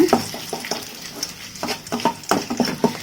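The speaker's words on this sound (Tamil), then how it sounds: "லைட்டா இதை ஃப்ரை பண்ணி விடுங்க" About ten dried red chillies fry in oil in a pan for chutney, heard as a soft sizzle under repeated sharp clacks and scrapes of a spoon stirring against the pan, close and irregular.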